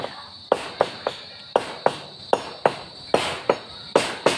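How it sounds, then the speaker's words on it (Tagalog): Sharp, steady hammer blows ring out one after another at a regular pace, each strike loud and close, with a faint insect-like whine in the background. "Kami na lang yung maingay, nagpupukpok."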